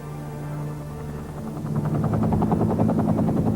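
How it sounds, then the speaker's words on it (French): A government helicopter draws closer, its low hum swelling into a loud, rapid rotor chop that thumps rhythmically through the last two seconds. "un hélicoptère du gouvernement vient le chercher"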